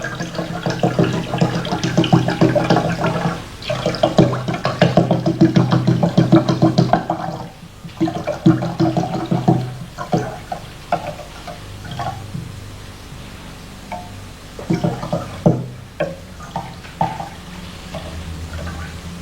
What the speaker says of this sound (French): Ajoutons de l'eau salée.